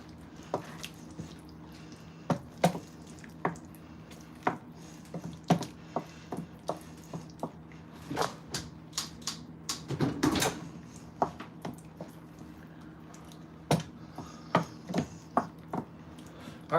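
Filipino spaghetti being mixed in a pan gives scattered wet squelches and sharp clacks of a utensil against the pan, irregular and fairly close, over a faint steady hum.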